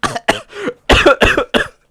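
A close, harsh fit of repeated coughing, about eight rough bursts in quick succession with short gasps between them.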